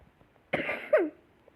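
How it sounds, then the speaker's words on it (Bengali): A single short, harsh cough sounds close by, followed by a rough throat-clearing rasp, then quiet. "এত কাশি কেন?"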